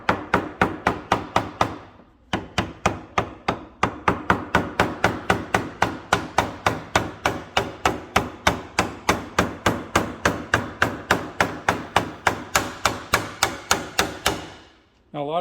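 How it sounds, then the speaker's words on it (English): A hammer taps a crankshaft oil seal into place on a 1966 Chevelle with an LS1 engine and TKO five-speed: dozens of sharp, close metallic blows in a steady quick rhythm, with a brief pause early on. "I'm just gonna get a hammer and finally tap that son of a bitch in there"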